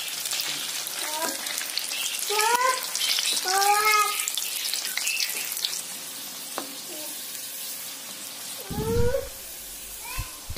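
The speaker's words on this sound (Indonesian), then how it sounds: "lalu goreng hingga kuning keemasan." Sausages rolled in wonton skins fry in hot oil with a bright, hissing sizzle, broken by a few short squeaky tonal calls in the background.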